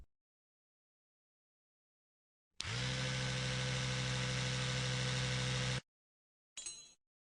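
A dental polishing instrument whirs against a tooth filling, a steady electric buzz that starts abruptly, runs for about three seconds, cuts off, then gives a brief second burst.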